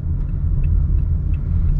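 Steady low rumble of a car engine idling close by as a driver signals right and parks during a driving licence test, with no talking over it.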